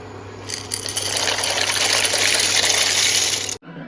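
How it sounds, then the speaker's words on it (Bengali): About 300 grams of dry pasta is tipped into a pot of warm water with a little oil, making a steady rushing splash for about three seconds that then stops abruptly. "এই পর্যায়ে দিয়ে দেবো আমি পাস্তা এখানে নিয়েছি আমি তিনশো গ্রাম পাস্তা"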